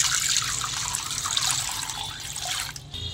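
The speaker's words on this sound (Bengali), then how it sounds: "তো আমি কড়াতে পানি দিয়ে দিলাম।" Water poured into a kadai fitted with a steaming rack, ready for steaming chicken momos: a steady, close splashing pour runs almost unbroken, easing briefly near the end.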